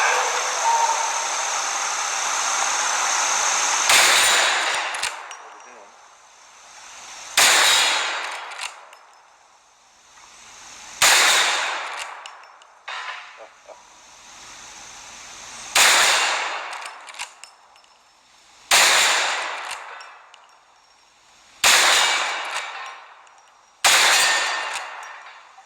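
Seven loud gunshots from personal defense firearms ring out one at a time at an outdoor range, each sharp crack followed by a long echoing decay and several seconds of quiet before the next.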